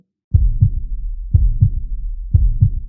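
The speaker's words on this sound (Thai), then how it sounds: "หล่อนได้ยินเสียงหัวใจของเขาเต้นชัดเจน" Heartbeat sound effect in an audio drama, a loud, close, deep lub-dub beating in three even pairs after a brief silence.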